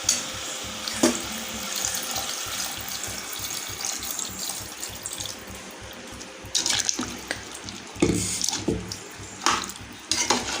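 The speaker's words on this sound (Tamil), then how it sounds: "வந்து தேவையான அளவு தண்ணி ஊற்றிக்கலாம்" Water runs steadily from a tap into a metal cooking pot, splashing continuously, with occasional clinks of the pot against the sink.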